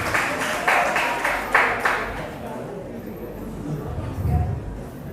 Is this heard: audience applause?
yes